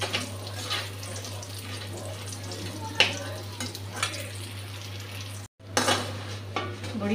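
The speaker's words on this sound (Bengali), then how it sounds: "ভালো করেই ভাজবো একটু বড়িগুলা" Lentil dumplings (bori) fry in a pan with a continuous soft sizzle, occasional stirring scrapes and a steady low hum beneath, briefly cutting out near the end.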